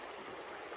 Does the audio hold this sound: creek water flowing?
yes